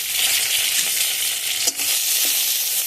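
Onion paste, garlic paste and bay leaves frying in a pan with cumin, giving a steady, close hissing sizzle with a brief stirring scrape partway through.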